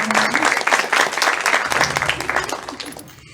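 Applause from an audience at a school event, steady dense clapping that fills the room and trails off near the end.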